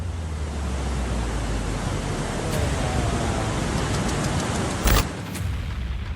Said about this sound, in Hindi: देखिए कैसे पानी के तेज बहाव में पूरा का पूरा घर ढह गया